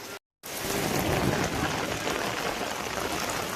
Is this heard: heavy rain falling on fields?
yes